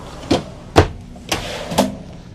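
Four sharp knocks and thumps from a large drawer under the TV in a 2020 Newmar Bay Star Sport 3014 RV, spaced unevenly and sounding close, as it slides out and bumps against its stops.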